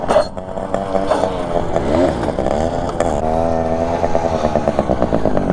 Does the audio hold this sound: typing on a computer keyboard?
no